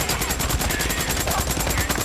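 Rapid gunfire in the Days Gone video game, a dense, continuous burst of shots aimed at a tank, loud and close with no talking over it.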